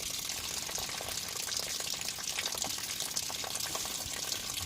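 Water drains and splashes steadily from camper plumbing lines being emptied for winterizing, a continuous close hiss and spatter with no pauses.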